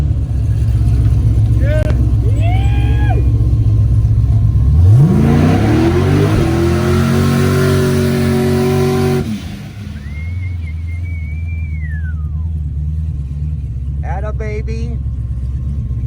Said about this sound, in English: now it is time to do our first official trailer burnout of the week